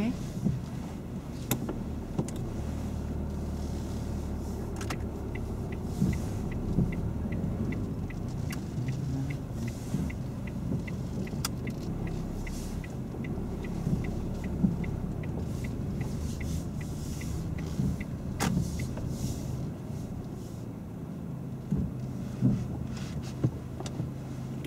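A car drives around during a driving lesson, with a low, steady road rumble and engine hum throughout and occasional faint clicks and knocks inside the cabin.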